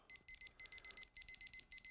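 Rapid electronic beeping from a probe thermometer set to 150 degrees for meatloaf, quick bursts of short high-pitched tones, repeating steadily and loud with no talking.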